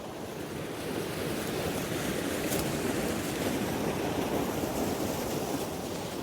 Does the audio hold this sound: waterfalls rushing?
yes